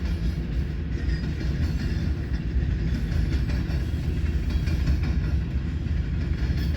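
Freight train rolling past near the diamond at Fremont, Nebraska, accelerating westbound with Kansas City Southern DPU power; a steady, loud low rumble with wheel clatter continues throughout without pause.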